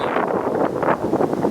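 Wind buffets a microphone outdoors beside a wooden structure built into the ground, a loud rumbling gust with no clear talk.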